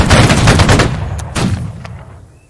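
A volley of rifle fire on command: a loud, dense crackle of many near-simultaneous shots, then a few scattered straggling shots as the sound fades.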